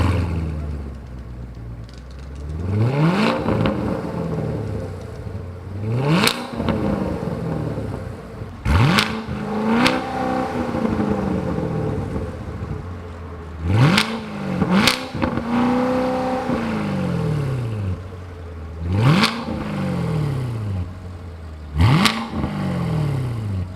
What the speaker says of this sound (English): what I'm going to show you right now is how this exhaust sounds